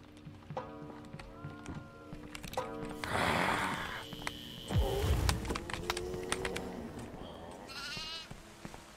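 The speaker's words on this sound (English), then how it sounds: "Oh, there's a goat outside." A goat bleats inside the horror video game Devour, heard in a few short calls over a busy game soundscape of footsteps, clicks and thuds, with one loud low impact midway.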